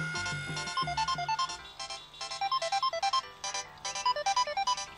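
A mobile phone ringtone plays a bright, repeating electronic melody in short rhythmic bursts, loud and close with no talk over it.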